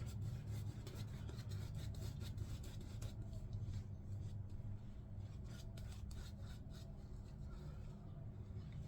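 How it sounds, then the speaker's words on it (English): A bristle shaving brush whips up Squadron shaving soap, making a continuous close, dense swishing and rubbing lather sound that runs without a break. "This is a great lather from Squadron soaps, always. So I've gone with my bristle brush."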